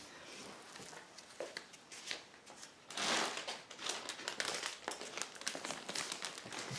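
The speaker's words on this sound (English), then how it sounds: "So this is my Craftsy kit in a wonderful drawstring plastic bag that is clear" A clear plastic drawstring bag holding a craft kit crinkles and rustles close by in irregular bursts, loudest in a sharp crumple near the middle, with no talk.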